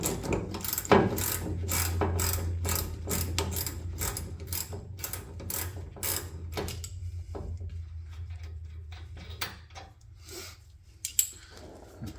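A 1/4 inch ratchet fitted with an 8 mm socket loosens a sway bar link on a Ford Raptor, giving bursts of rapid, close clicking that thin out into sparse single clicks with short pauses.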